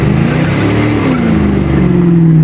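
A Corvette engine roars loud and close in a sustained rev as dry-rotted tires spin in a burnout, the pitch climbing steadily with no talk over it.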